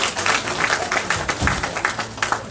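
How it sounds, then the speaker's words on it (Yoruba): A Yoruba Christian fellowship congregation claps together during a Sunday church service, a steady wash of many hands with faint beats of individual claps running through it. "jẹ́ ká pàtẹ́wọ́ ńlá fún Jésù fún tó pọ̀ láàárọ̀ yìí"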